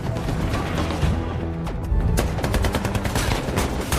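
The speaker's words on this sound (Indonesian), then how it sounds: "dan adu tembak pun terjadi" Loud, dense gunfire from a firefight in the 2014 war film American Sniper, rapid repeated shots with crashing impacts filling the whole stretch, no talk over it.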